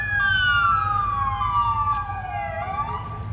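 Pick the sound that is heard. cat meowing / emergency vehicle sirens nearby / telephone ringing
emergency vehicle sirens nearby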